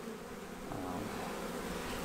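Bees crowd inside a hive opened for a winter inspection, giving off a soft, continuous buzzing hum that stays faint and even throughout.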